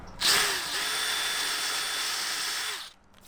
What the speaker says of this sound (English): So what I'll do is drill underneath it so all the water kind of flows underneath.